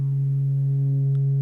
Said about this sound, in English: we've got our sine wave going